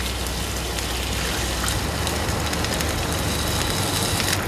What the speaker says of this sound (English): I'll add in some water